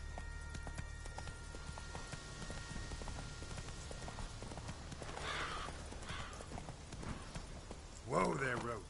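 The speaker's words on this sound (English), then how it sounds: "Whoa there, Roach." Horse hooves clip-clop steadily in a PS4 video game, faint and continuous over soft rain-like ambience, with a horse's whinny near the end and speech in the mix.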